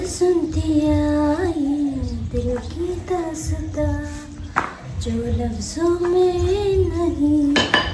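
Kitchen utensils and pans clatter while chapatis are cooked at home, with loud metallic knocks and clinks over a continuous voice-like tonal sound.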